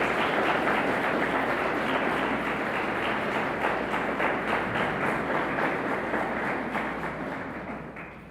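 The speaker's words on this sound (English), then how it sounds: "Can you give them all a round of applause in their absence?" Audience applause at a community celebration honoring emergency call center staff, a steady dense wash of many hands clapping that carries through and slowly fades toward the end.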